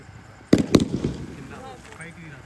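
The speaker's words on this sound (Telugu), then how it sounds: "ఆ క్రాకర్స్ టాప్ టాప్ టాప్ అని వస్తున్నాయి అన్నీ సౌండ్స్ అవన్నీ చూసేయండి." Firecrackers bursting at a family birthday cake cutting: two sharp loud bangs close together near the start, followed by crackling pops and then quieter background with faint voices.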